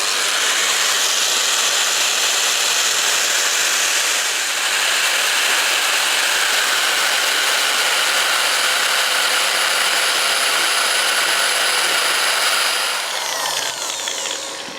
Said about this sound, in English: we're going to cut off the head of the bolt